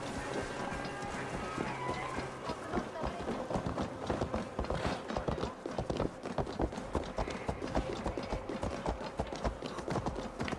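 A horse gallops in Assassin's Creed Valhalla, its steady clip-clop hoofbeats running throughout over busy game ambience and music, close and loud with a few brief spoken words.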